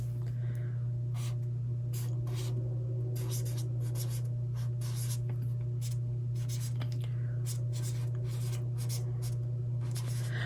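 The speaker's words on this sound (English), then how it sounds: "Let's go ahead and write in June in review." A pen scratches across paper in a planner, close and quiet, in bursts of short strokes with brief pauses, over a steady low electrical hum.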